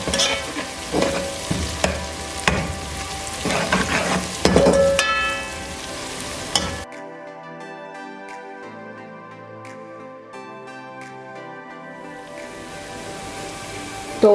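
Onion and garlic-ginger paste fry to golden brown for a mutton and capsicum dish: a loud, busy sizzle with stirring scrapes at first, then a softer, even crackle after an abrupt drop.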